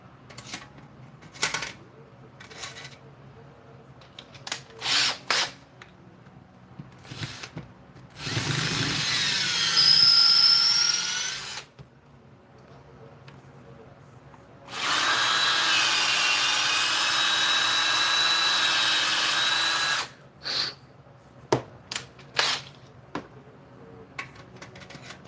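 A power drill with dull step drill bits, two loud sustained whirring bursts of a few seconds each, close up, amid scattered clicks and handling knocks.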